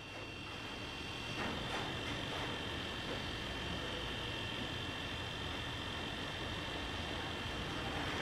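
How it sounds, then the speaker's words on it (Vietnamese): A Huawei instant photo printer runs with a steady, even mechanical whir and hum that holds at the same level from start to finish, with no talk over it. "Nghe máy nó chạy trong đây luôn các bạn."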